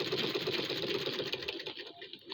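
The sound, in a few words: sewing machine doing fine stitching on a frock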